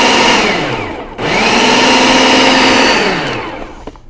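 A food processor whirs steadily and loudly as it blends butter and flour for a pie crust, with a brief stop and restart partway through before the motor winds down.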